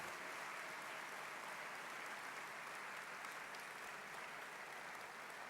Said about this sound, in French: Merci de les applaudir largement.